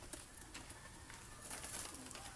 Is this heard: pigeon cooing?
yes